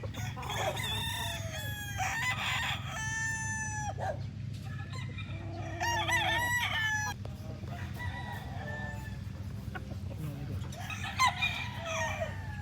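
Roosters crow over and over at a gamefowl breeding farm in Santo Tomas, Batangas, with clucking and a low rumble of background noise between the calls.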